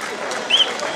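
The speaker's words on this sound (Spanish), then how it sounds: "Fuerte aplauso" Spectators clap and cheer for runners at a road race in Carballiño, a steady crowd wash of applause with a brief whistle rising above it.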